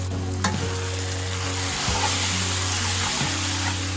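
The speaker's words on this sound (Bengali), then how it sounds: "এবার সব কিছু ভালোভাবে মিশিয়ে নেব" Spiced greens with turmeric, chili powder, cumin and salt stirred in a cooking pan, a steady close sizzle under repeated scraping strokes and a low hum from a stove or fan.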